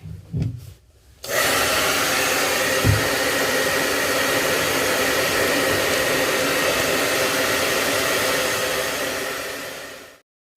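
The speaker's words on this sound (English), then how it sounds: "using the blow dryer, the hair dryer, a regular hair dryer" A hair dryer roars steadily at close range for several seconds after a brief rustle and breath, then cuts off abruptly, used on peel-and-stick contact paper.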